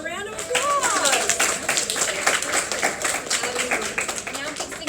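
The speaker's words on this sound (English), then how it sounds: "Give her a round of applause." A crowd claps and cheers for a pageant winner, a dense burst of applause lasting the whole stretch, with voices and whoops mixed in over the clapping.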